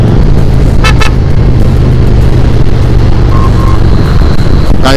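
A vehicle horn honks on a busy road during a motorcycle ride, sounding in a couple of short bursts over loud, steady wind and engine roar.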